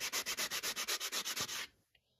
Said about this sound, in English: All I have to do is sand the bottom.